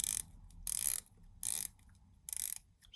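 The 120-click aluminium bezel on a stainless steel Edox Delfin Fleet 1650 diver watch is rotated in four short bursts of rapid, crisp ratcheting clicks, close and distinct against quiet gaps.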